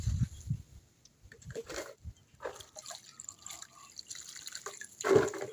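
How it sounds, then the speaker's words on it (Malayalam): Water is poured into potting soil being mixed for growing strawberries, heard as intermittent trickles and drips with soft splashes and a louder gush near the end, fairly quiet and with no talking. "എന്നിട്ട് നല്ലോണം വെള്ളം ചേർക്കുക."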